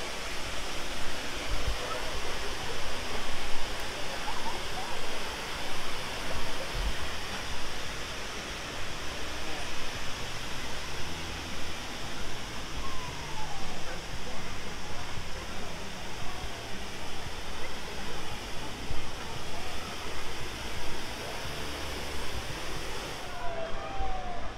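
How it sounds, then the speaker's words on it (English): Water flowing under a footbridge and cascading down into a resort pool waterfall at a Disney deluxe resort, a steady, loud broadband rush that continues evenly throughout with no talking. "So this runs under the bridge, sorry, and out through there, and it goes down to the waterfall in the pool."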